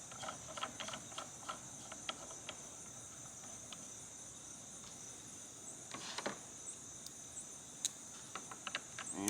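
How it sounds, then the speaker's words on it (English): Short ratchet wrench snugging a Lowrance Ghost 3-in-1 transducer mount, heard as faint, scattered light clicks against a steady high insect-like chirring background outdoors. "I got a short ratchet here. I just got just a little snug."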